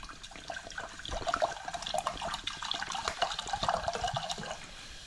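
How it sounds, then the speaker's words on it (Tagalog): Water pours steadily into a metal pot, a continuous splashing gush with bubbling, gurgling texture, close by and without speech. "And then, lagyan natin ng tubig."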